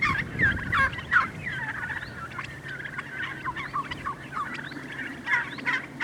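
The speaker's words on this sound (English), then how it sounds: "I think these are free range turkeys." A flock of free-range turkeys on a farm gobbling repeatedly in overlapping bursts, a loud, busy chorus close by, with no speech.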